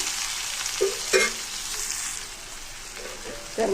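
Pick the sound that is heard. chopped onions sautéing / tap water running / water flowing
chopped onions sautéing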